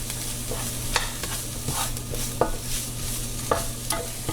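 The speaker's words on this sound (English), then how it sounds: "I'm going to get this stirred in." A spoon stirs garlic and pepper into a tofu scramble in a hot pan, with soft sizzling throughout and a few sharp scraping taps against the pan.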